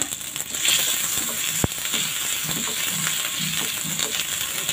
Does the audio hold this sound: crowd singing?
no